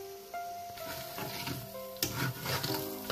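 Egg biryani with potato cooks in a handi, with a close, steady sizzle broken by stirring scrapes and a sharp knock partway through.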